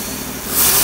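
Mopar 318 V8 engine running on GM throttle body injection, a steady close idle that swells slightly toward the end.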